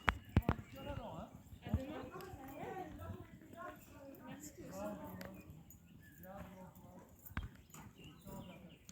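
A horse moves through canter work in a show-jumping session, with hoofbeats and thuds mixed under a trainer's French commentary and some sharp knocks.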